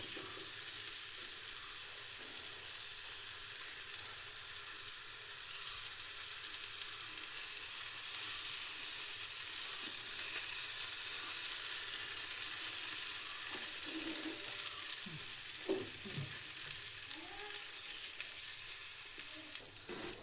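Vegetable and greens thalipattu, a North Karnataka flatbread, sizzles steadily in oil on a pan, with a continuous frying hiss and a few soft scraping or stirring touches near the end.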